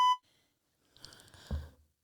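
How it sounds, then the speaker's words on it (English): A short censor beep, a clean electronic tone lasting a fraction of a second at the very start, followed by quiet then muffled indistinct talk. "I had to beep that"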